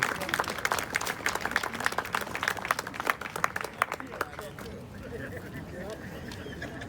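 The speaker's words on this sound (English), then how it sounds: "let's give a round of applause" An outdoor audience at a street renaming ceremony breaks into lively applause, dense clapping for about four seconds that thins and fades out.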